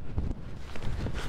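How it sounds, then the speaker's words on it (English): Strong wind on a misty winter mountain blusters steadily across the microphone, a low rumbling roar with gusty swells over a short stretch and no voices. "There was a strong wind blowing from my left"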